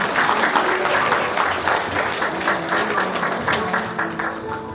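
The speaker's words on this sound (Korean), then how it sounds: "여러분 큰 박수 부탁드립니다." Wedding guests applaud the bride and groom's bow, a full round of clapping from a crowded hall, strong at first and tapering slightly, with faint music tones lingering beneath.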